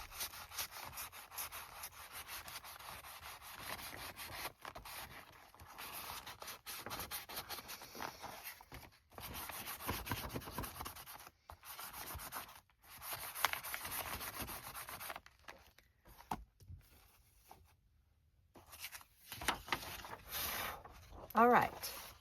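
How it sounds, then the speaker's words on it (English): A journal cover corner being scuffed by hand, a quiet, repeated dry rubbing and scraping in uneven strokes with brief pauses, faint talk nearby. "Then we're going to scuff it."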